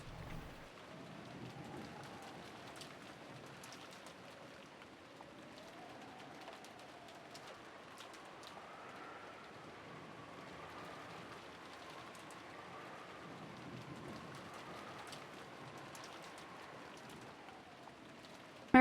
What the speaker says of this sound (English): it's very quiet, filled only with the sound of the rain